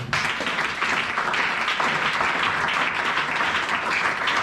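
A short burst of congregational applause during a sermon: many people clapping together in a bright, continuous, fairly loud patter without pause.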